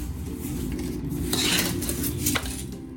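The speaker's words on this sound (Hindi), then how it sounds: "एक एक करके हम डालेंगे और एक एक करके हम इसको मिक्स करेंगे" Sugar being mixed into a homemade panjiri mixture in a metal pot, with a spoon scraping and clinking against the sides in a steady run of scrapes, louder in the middle, and no voices.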